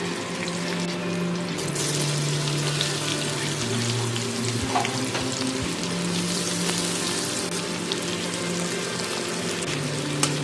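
Finely chopped onion goes into hot fish oil with nigella seeds and green chillies, a continuous soft hiss and sizzle under a low steady hum, with occasional faint clinks, no voices.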